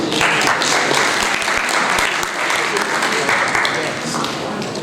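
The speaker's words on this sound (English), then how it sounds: "let's give everybody a round of applause" An audience at a Breakthrough 2023 seminar gives a loud, sustained round of applause, dense clapping filling the room with voices mixed into it.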